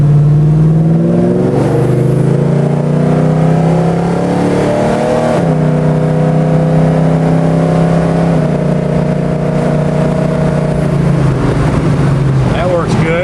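A red Chevrolet Monte Carlo cruises along with a steady engine drone and a couple of gear-change shifts in pitch, heard from inside the car with some talk over the engine noise.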